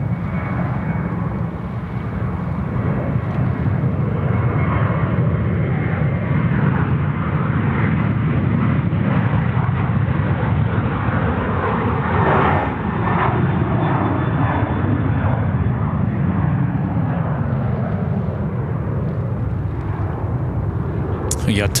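Thai Airways flight 471, a heavy jet, arrives at Sydney Airport with a loud, sustained engine roar that swells and shifts in pitch as it passes, alone with no talk over it.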